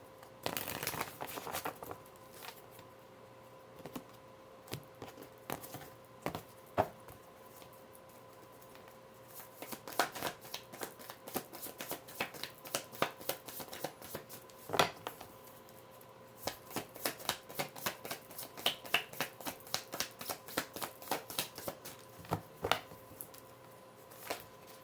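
Tarot cards being shuffled by hand, a close, quiet run of crisp riffling and patting bursts that come in uneven flurries, with no voices.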